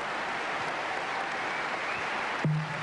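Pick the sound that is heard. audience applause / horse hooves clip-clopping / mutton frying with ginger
audience applause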